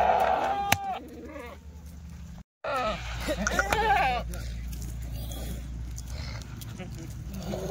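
A tall, long-bodied goat bleats in a farmyard, its calls interrupted by hoof clops, while someone talks over the animals.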